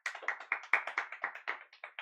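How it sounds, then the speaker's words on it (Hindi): Hands clap steadily in a quick, even rhythm of about twenty claps, close and fairly soft, with no voices. "बजाओ तालियां।"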